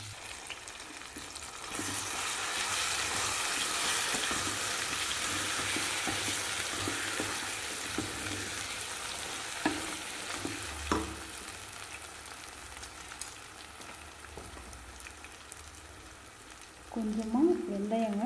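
Ground spice paste for ginger thokku fries in a pan with oil and asafoetida, a steady close crackling sizzle broken by scraping stirs, with a brief voice near the end.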